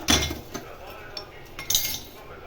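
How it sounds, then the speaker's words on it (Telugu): Fried ingredients are pounded in a small stone mortar while making pappu and pachi pulusu, with a few sharp, close knocks spaced apart over a quiet background. "ఫ్రై అయిన తర్వాత ఇలా చిన్న రోట్లో ఇలా వేసుకొని"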